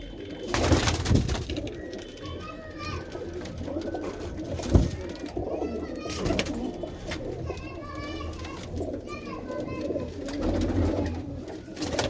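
Pigeons kept in pairs in a Punjabi loft coo steadily and close by, with chirps from other birds throughout and people talking underneath.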